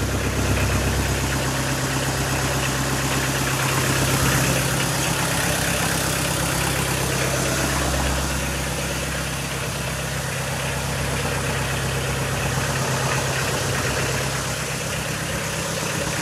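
A Kubota L2602DT four-wheel-drive tractor engine idles steadily and close by, a continuous low mechanical drone with slight vibration that holds for the whole stretch, with no voices over it.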